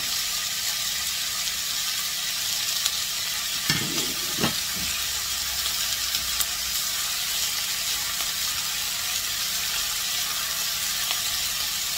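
Garlic fries in a pan for a chicken curry, giving a constant bright sizzling hiss throughout. A brief clatter of stirring sounds partway through, with no voices.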